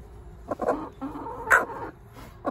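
A broody bantam hen clucks and grumbles up close in a backyard coop, giving a series of short, irregular throaty clucks with one louder squawk in the middle, and no voices.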